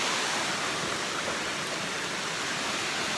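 A secret waterfall pours with a steady, dense broadband rush, loud and unbroken throughout, with no voices over it.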